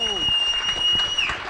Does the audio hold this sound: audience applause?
yes